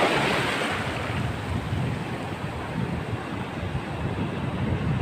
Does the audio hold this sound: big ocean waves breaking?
yes